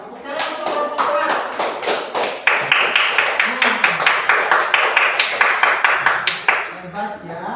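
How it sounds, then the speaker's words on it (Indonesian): A classroom of children claps for group 4 in a steady run of sharp, rapid hand claps, loud and close, building into a rhythmic applause that stops abruptly near the end. "Tepuk tangan untuk kelompok 4."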